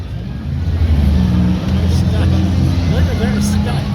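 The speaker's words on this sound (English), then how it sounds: "The 101 and the 75 hitting each other here." Demolition derby cars slam into each other at the Canfield Fair in Ohio, heavy engines rumbling and revving loudly with crowd babble and an announcer's voice over the noise.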